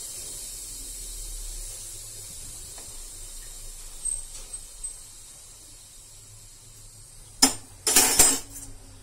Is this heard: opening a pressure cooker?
yes